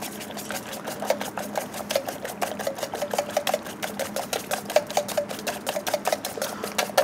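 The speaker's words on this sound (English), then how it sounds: "Then we've got our egg whites, which we then we need to whisk." Six egg whites whisked briskly by hand in a bowl, a fast, even run of sharp metallic ticks and clatter repeating for several seconds, close and alone without talk.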